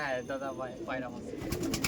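Malbahi pigeons in a loft cooing, soft rolling coos repeating close by while a person talks over them.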